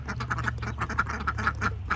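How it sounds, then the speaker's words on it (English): Ducks on a farm quack repeatedly at close range, giving a steady run of nasal calls over a low background hum. "We are here with the ducks."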